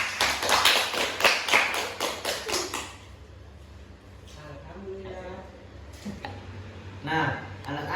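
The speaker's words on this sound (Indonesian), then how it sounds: "Tepuk tangan untuk kita semua." A classroom of children claps together in a quick, loud burst of rapid applause that stops abruptly, followed by quieter room sound and a teacher's voice speaking.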